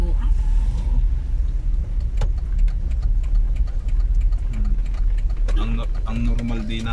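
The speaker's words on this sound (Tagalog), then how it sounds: "Ang normal din ng Calamba ay traffic" Busy street traffic in Calamba during a typhoon, with car engines idling and passing close by in a continuous low rumble, occasional sharper vehicle sounds, and a voice talking over it.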